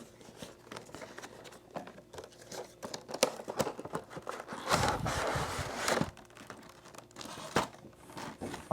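Packaging of a boxed G1 Transformers Starscream toy crinkles and tears as it is opened. The rustling comes in close, scattered bursts, with a louder stretch of crumpling midway.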